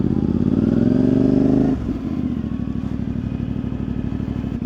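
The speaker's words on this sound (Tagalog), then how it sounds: "Medyo mahirap yung parking guys for motorcycle or big bike." Big bike motorcycle, a 450 MT, idling loudly at close range while being parked outside a cafe, a low rumbling engine that dips in pitch partway through and then settles into a steady, throbbing idle.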